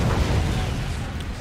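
A flashbang goes off in Resident Evil 2, filling the moment with a loud, dense wash of blast noise that carries on steadily without a clear break.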